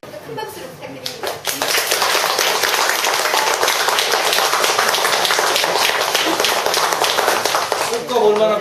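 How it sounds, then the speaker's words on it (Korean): Audience applause at a training session fills the room, dense steady clapping that swells after a quiet start and holds loud and continuous to the end. "큰 박수로 부탁드립니다."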